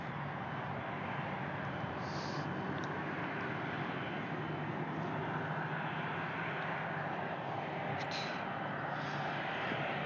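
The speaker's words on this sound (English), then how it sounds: "So here we have the big Airbus of Brussels Airlines." Brussels Airlines Airbus engines at Brussels Airport, a steady, fairly faint broadband roar that continues without a break, with a few brief chirps over it.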